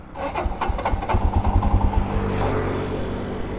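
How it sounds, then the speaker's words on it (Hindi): A motorcycle with a starting fault is cranked on its electric self-starter, the engine catching briefly with loud close firing pulses before running unevenly and dying out again, with no talk. "अभी एक सेल्फ लेते हैं,"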